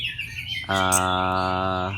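A young orange-headed thrush (anis merah) gives a sustained, harmonic squawking call, loud and close, following softer chirps at the start.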